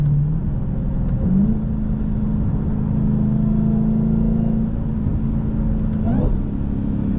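A Hellcat Redeye car engine drones loudly and close, its pitch climbing and holding as it revs up, with a brief rise again toward the end.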